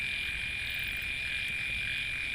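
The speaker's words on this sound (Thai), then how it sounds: "กบกบตัวใหญ่เลยนะครับ" Steady night chorus of frogs and insects near a fishing spot in rural Thailand, a constant high-pitched trilling drone, fairly faint and unbroken, with no voices.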